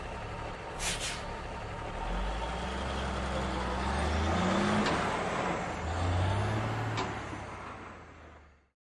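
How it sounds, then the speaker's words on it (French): A truck engine starts and settles into a steady, rumbling drive with rising and falling tones, a few sharp clanks early on, fairly loud before cutting off abruptly at the end. "Il monte à bord et démarre le moteur."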